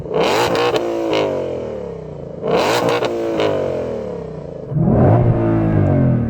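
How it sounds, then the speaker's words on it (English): A Mustang Shelby GT500 engine revs hard three times, each burst climbing to a high-pitched roar before dropping back to a throaty rumble. "I'm going to start by revving up this lovely Mustang."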